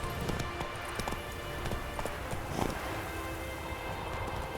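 A horse gallops in The Witcher video game, its hoofbeats thudding in a fast, repeated rhythm over a dense, steady background wash.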